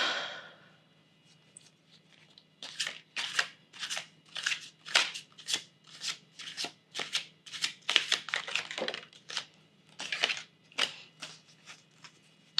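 Tarot cards being shuffled for a reading: a long run of rapid, close papery riffles and slaps in an uneven rhythm, heard alone without talk.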